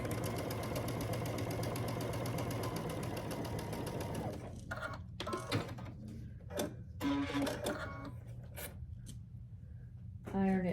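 Sewing machine stitching quilt pieces, a steady mechanical whir for about four seconds, then stops and scattered clicks and short bursts, with a voice talking intermittently.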